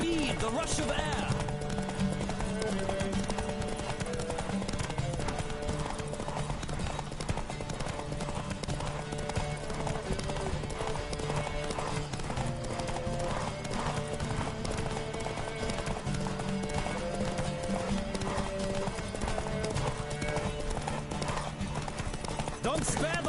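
Racing horse at full gallop in The Witcher 3, with a continuous drumming of hooves that holds an even rhythm for over twenty seconds beneath game music, voices calling now and then.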